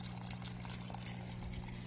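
Water pouring steadily into an aquaponics grow bed outdoors, a constant splashing trickle at low level with a faint hum underneath and no talking.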